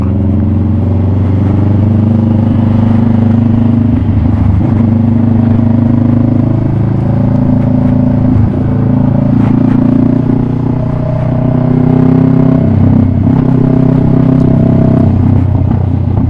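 A 2016 Kawasaki Vulcan S cruiser with a Two Brothers full-system titanium exhaust idles and revs with a deep, throbbing exhaust note, loud and close, swelling and dipping over several seconds.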